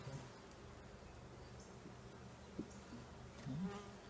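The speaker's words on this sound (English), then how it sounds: "Got a bee on this side." Honeybees buzz softly at an outdoor hive while a box is added, a faint steady drone with a few brief louder passes as a bee comes near.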